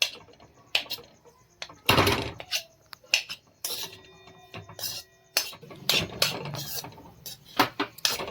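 Khoa (mawa) roasting over a low gas flame in a pan gets stirred and scraped with a spoon, giving irregular close scrapes and clinks of metal on the pan amid quiet gaps.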